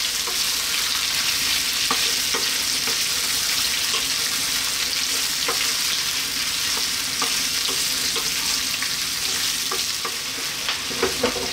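Onion frying over lively heat in a pan for Indian mutton curry, a loud steady close sizzle with occasional light stirring clicks and no talk.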